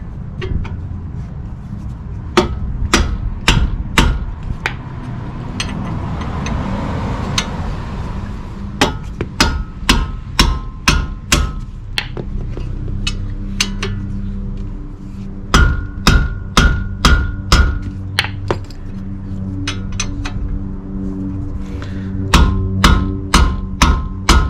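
Metallic clinks and ratchet-like taps ring out repeatedly, close and sharp, as bolts are tightened during a front rotor and pad replacement on a 2005 Toyota Camry XLE, arriving in irregular bursts.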